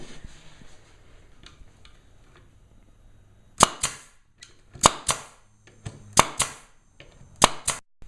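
Pneumatic nail gun driving nails into two pieces of wood: after a quiet stretch, sharp loud cracks arrive in closely spaced pairs, about five bursts, each a sudden snap with a short hiss.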